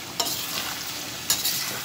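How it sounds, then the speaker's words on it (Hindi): Ingredients for chicken curry frying in a pan, a steady close sizzle broken by two short scraping stir strokes, no voices. "इसी तरह से थोड़ा सा चलाते हुए गोल्डन ब्राउन हो जाए"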